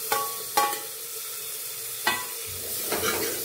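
Tomatoes being sautéed in a pan for moong masoor dal, a soft steady sizzle broken by a few sharp scraping stirs of a spatula, close and fairly quiet, with no voices.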